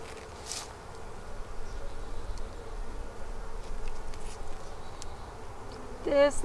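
Honeybees swarm around beehives in spring, their dense, steady buzzing filling the air nearby with the occasional louder pass of a single bee close by.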